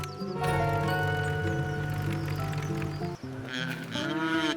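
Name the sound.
cows mooing, cartoon farm sound effect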